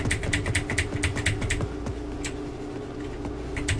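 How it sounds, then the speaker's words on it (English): Rapid, loud tapping on a mechanical keyboard, with a repeated double-tap on the W key during gameplay, clicks clustered densely in the first half and then thinning to a few scattered strikes over a steady background hum. "Sorry for if you guys hear loud tapping. Mechanical keyboard plus double tapping the W button."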